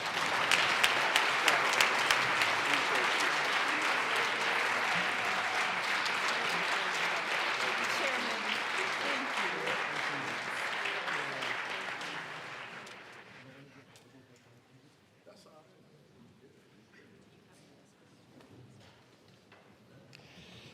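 Sustained applause fills a state legislative chamber for about thirteen seconds, dense clapping from a large crowd, then fades to quiet room tone with faint murmuring voices.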